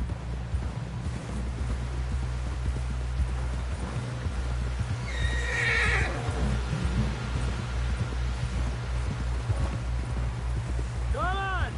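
Horse hooves clip-clopping at a run in the Western video game Red Dead Redemption 2, steady and close under a low ambient rumble, with a whinny midway and voices talking over it.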